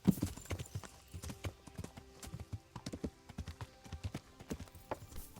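Horse hooves clip-clop in a steady, uneven trot in the video game Kingdom Come: Deliverance, close and fairly quiet, with occasional louder hoof strikes and faint background ambience.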